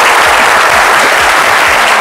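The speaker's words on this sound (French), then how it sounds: "Je pensais que vous allez applaudir." A studio audience at a French midday television show claps steadily, loud and dense throughout.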